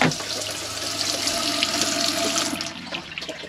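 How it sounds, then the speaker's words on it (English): Steady rush of water running from a sink down into the drain shared with the shower, close and continuous, easing slightly toward the end. "see the water comes out down here and goes into the same place that the water comes out when you use your shower"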